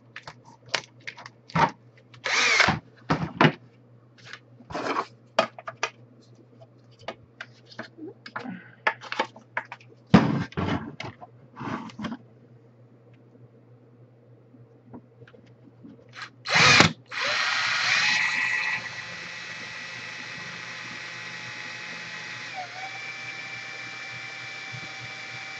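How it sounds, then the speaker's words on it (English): Power drill with a 1/4 inch Forstner bit boring through the plastic case of an Atari 7800, in short loud whirring bursts with gaps, then a sustained steady drilling run toward the end. "I'll use a 1/4 inch Forstner bit through the final hole."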